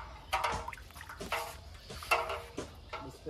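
Water poured from a container over someone bathing outdoors in clean water, heard as several separate splashing gushes and drips across a few seconds, fairly close and moderately loud, with no talking.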